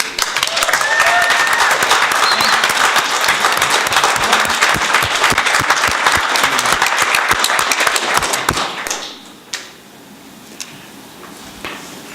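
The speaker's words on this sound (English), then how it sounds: "let's give them all another round of applause" Applause from a city council meeting audience: dense, steady clapping fills the room for about eight seconds, then fades quickly to a quiet hall with a few scattered sounds.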